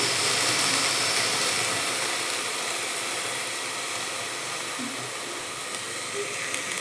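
Moth beans (matki) frying in a pan on a gas stove, a steady broad sizzle and hiss that holds evenly throughout with no talk over it.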